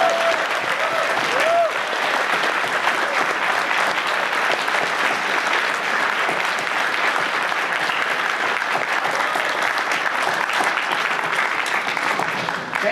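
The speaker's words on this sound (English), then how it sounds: "Let's give them a round of applause." Sustained applause from a large audience at a Sonic Mania panel at San Diego Comic-Con 2017 fills the whole stretch, dense and even, with a few faint voices mixed into the clapping.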